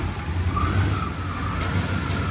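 A Chevrolet Silverado GMT400 pickup idles with a steady low engine hum and a faint whine above it, close by and constant throughout, with no talking.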